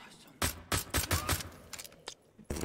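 Dual pistols firing in Wolfenstein: The Old Blood, a series of sharp, loud shots in quick uneven bursts with short gaps between them.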